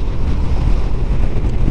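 Loud, dense wind buffeting roars across the microphone of a rider on a motorcycle on a windy day, a constant low rushing blast with no speech.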